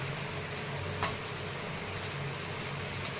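Cumin seeds sizzling in hot oil in a new kadai while making matar paneer, a steady close frying hiss running through the whole stretch with one brief crackle early on.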